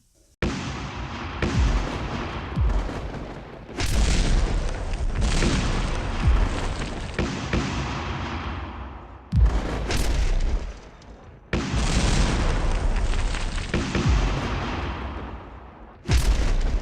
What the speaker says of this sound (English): our artillery have opened up in the German trenches